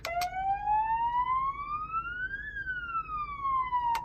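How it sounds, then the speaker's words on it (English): A single slow police siren wail from a Honda Element's PA system rises steadily, then falls again, loud and electronic, with a couple of brief clicks at the start and end. "So that sounds like a police alarm."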